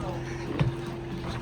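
A boat sits on the water off Haiti, with a steady low motor hum close by under faint wind noise, alone and even throughout.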